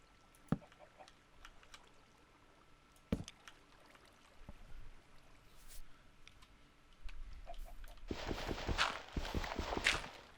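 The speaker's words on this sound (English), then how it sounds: "I don't know why the horse sounds are so loud." Hooves clip-clop in a blocky video game world, with a few sharp isolated steps early on, then a louder, busier patter of hoofbeats toward the end.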